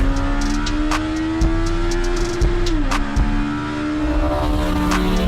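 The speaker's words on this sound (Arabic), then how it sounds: "طب ما تيجوا كده نشوف ونسمع التسارع بتاع العربية." A modified car's engine revs hard and accelerates, a loud, continuous, close growl with a steady drone that shifts in pitch partway through. No one speaks.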